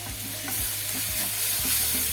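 Onions sizzle steadily and soften in a hot earthenware pot while a spoon scrapes and stirs them in regular strokes, close up with no talking, while cooking a country chicken curry.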